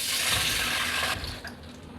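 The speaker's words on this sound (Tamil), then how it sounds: "நெய்யும் ஊற்றிடுறேம்மா." Ghee is poured into a pan while making kesari, a South Indian sweet. It makes a steady hissing flow for about a second before tapering into faint splashes, with no talk.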